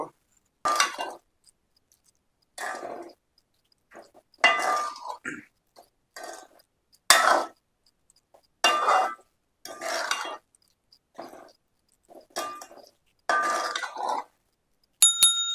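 A spoon stirs a sticky coconut sweet mixture in a pan on the stove, producing short scraping, clinking strokes in irregular bursts separated by brief pauses.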